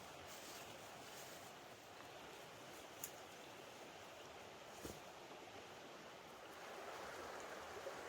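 Creek water rushes steadily over boulders in a river valley, a continuous faint broadband wash with no voices and only a couple of small knocks.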